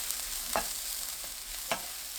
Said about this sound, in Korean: 약불로 낮추고 식용유 2큰술, 다진 마늘 1큰술 섞어줍니다.